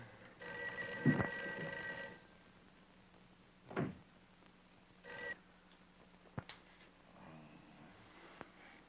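An old telephone bell rings unanswered in a quiet building room: a long trill that stops, then a shorter second burst, with a few soft knocks and clicks between.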